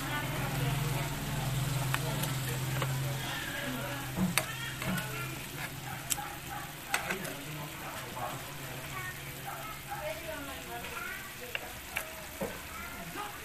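Pork dropped into a boiling pan for a pork chop dish with Baguio beans, eggplant and potato, bubbling and sizzling steadily while a person talks over the cooking.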